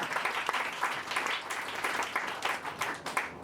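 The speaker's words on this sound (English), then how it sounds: "applaud" An audience at a Nerd Nite Tokyo talk night claps steadily, with individual hand claps distinct within a soft, fairly distant round of applause that carries on without voices.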